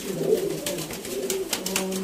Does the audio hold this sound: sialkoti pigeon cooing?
yes